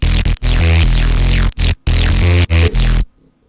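Heavily distorted 303-style acid bass synth pushed through a Trash clipping preset, a gritty buzzing tone with squelchy filter sweeps, played in loud choppy bursts with brief gaps before cutting to silence at the end.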